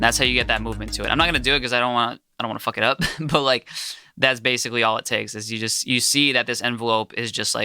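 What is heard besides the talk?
No distinct noise like a dog, phone or traffic.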